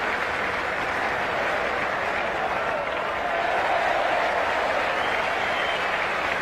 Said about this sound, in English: here's the applause of the crowd.